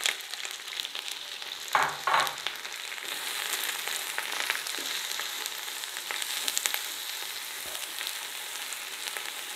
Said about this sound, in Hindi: जब ये घी हमारा पिघल जाएगा तो इसके अंदर हम ये 6 मीडियम साइज़ के कटे हुए प्याज है, ये इसमें डाल देंगे।